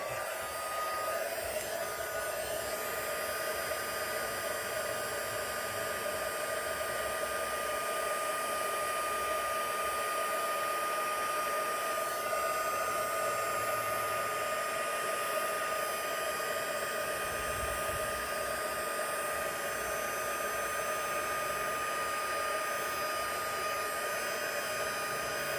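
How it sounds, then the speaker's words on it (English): A heat embossing tool blowing hot air, a steady whirring hiss that holds unbroken at close range throughout, with no talking. "And then I'll bring my heat tool back"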